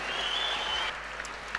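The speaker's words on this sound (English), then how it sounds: "let's have a round of applause for Simon Neary, Paul Knapton, and the legendary Nicky Crowe" Audience applause at a TT 2010 media launch, a steady wash of clapping from a crowd that holds for about a second, then thins into a few scattered claps.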